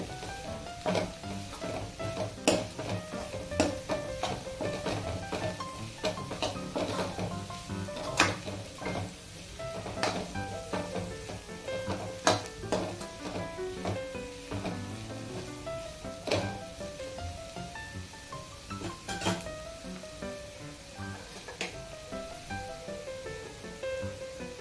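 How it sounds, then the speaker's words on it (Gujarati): Vegetables for Veg Manchurian sizzle steadily in a pan over a medium-low gas flame while a utensil scrapes and clacks against it at irregular intervals, with a faint tonal hum beneath. "એક મિનિટ માટે આપણે એને એમ જ સાંતળી લઈશું."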